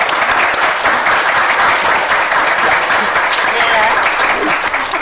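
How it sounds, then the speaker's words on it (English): Loud, sustained applause from an audience at a school board meeting, a steady dense wash of clapping that carries on evenly without a break. "So let's give them a round of applause"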